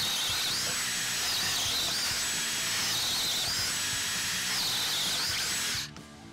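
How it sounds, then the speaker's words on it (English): A DeWalt Atomic cordless drill whirs steadily at high speed, its pitch rising and dipping under load for about six seconds before cutting off abruptly. "We'll just drill a bunch more and see how it does."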